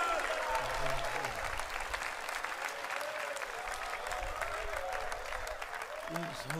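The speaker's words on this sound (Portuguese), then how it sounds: "Vamos receber nosso pastor Lorival de Almeida com palmas que glorifiquem o nome santo do Senhor Jesus." A church congregation at a men's faith gathering breaks into sustained, steady applause welcoming the pastor, dense clapping filling the hall throughout while voices carry over it.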